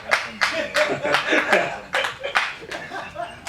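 Scattered audience clapping at a Tamil film press meet for the movie Ace, heard as a series of sharp, uneven bursts of hand claps with someone talking over them and light laughter mixed in.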